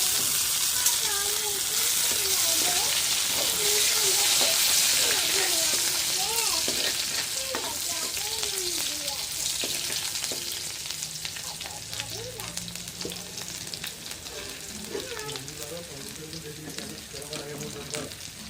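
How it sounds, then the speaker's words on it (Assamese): Whole cumin seeds with chopped onion, ginger and garlic sizzling in leftover fish-frying oil, a steady broad hiss with a soft stirring rustle throughout, fairly close, with a voice speaking faintly in the background. "এতিয়া মাছ ভজা তেলখিনিতে কেইটামান গোটা জিৰা দি দিছোঁ।"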